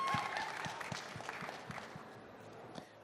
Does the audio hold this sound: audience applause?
yes